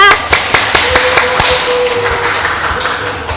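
Audience applause at an online seminar, close sharp individual claps in an uneven rhythm over a steady crowd-clapping background.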